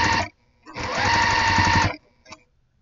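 A sewing machine stitches rows of quilt blocks with a locking stitch, in a short whirring burst, then a longer steady run of about a second, close and loud, with brief pauses between.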